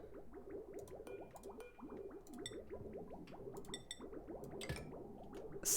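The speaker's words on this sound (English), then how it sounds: "Let's do some mopping here." Water being mopped up in the space colony sim Oxygen Not Included: Spaced Out, a steady run of soft, wet squishing and dripping strokes, with occasional brighter clicks from game interface sounds near the end.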